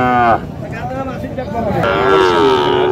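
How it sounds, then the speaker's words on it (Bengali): At a cattle market in Nilphamari, a young Sahiwal bull lets out a long, loud moo, followed by another drawn-out lowing call, with faint voices in the background. "ষাঁড় বাছুর হচ্ছে শাহিওয়াল ষাঁড়"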